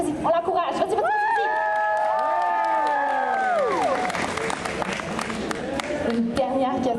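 A crowd cheers and claps to encourage a six-year-old boy running fast like The Flash at a fan convention in Montreal, a steady lively roar with a voice and sweeping tones rising through it.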